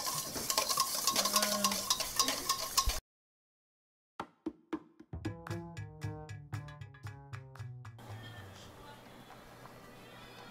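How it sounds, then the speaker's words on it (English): Egg yolks are whisked with lemon juice in a bowl, with quick rhythmic clinks of the whisk fading in strength after a brief silence and louder kitchen noise. "basically whisk until it like doubles size"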